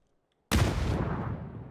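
After brief silence, a grenade explodes in a PUBG match with a sudden loud boom, and a long rumbling tail decays slowly behind it.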